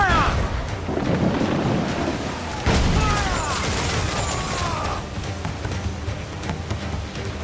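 Pirate ship cannons fire broadsides in Assassin's Creed 4 Black Flag: a few heavy booming blasts roll over a constant rumble of sea and wind.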